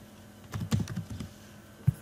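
Keys tapped on a computer keyboard while entering town names into a database table, a quiet cluster of soft clicks followed by a single sharper keystroke after a short pause.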